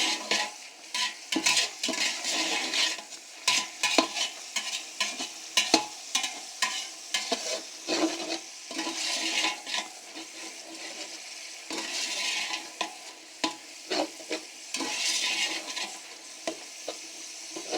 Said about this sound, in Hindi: दस से 15 सेकंड तक हम इसको मज़ीद यहाँ पे फ्राई करेंगे।